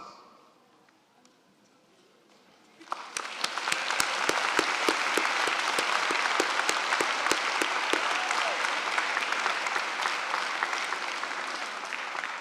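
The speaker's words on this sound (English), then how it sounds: "please stand so we can thank you with our applause" A quiet room at a high school graduation ceremony erupts into sustained applause from a large audience, steady clapping continuing for around ten seconds.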